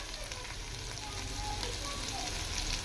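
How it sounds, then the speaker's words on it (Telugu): Masala spices fry in oil for a mutton biryani, giving a steady, close sizzle with faint stirring texture throughout and no voices. "ఈ మసాలాలోనే బాగా ఫ్రై చేసుకోవాలా మసాలాలన్నీ."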